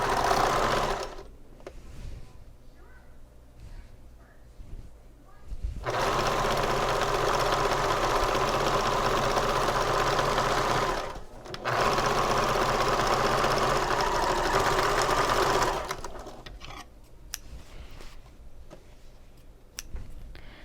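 A sewing machine stitching the rounded bottom seams of a convertible bag makes long, steady whirring runs of rapid stitches, close and loud, separated by short pauses.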